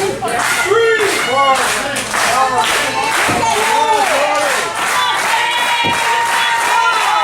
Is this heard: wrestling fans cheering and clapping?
yes